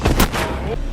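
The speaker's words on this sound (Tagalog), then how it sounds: "biglang dumating si Julio at pinaputukan si Kruger." A loud, sharp gunshot from an action film is followed quickly by a second crack, then a short booming tail.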